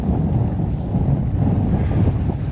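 Heavy wind roars steadily into the microphone on the coast at Sønderby Klint, Denmark, a dense low rumble with no voices, hinting at open water nearby.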